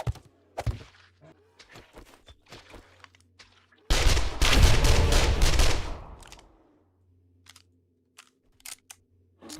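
Rapid automatic gunfire in the zombie survival game 7 Days to Die, including an M60 machine gun, in one loud sustained burst of about two seconds amid sparse scattered clicks and thumps.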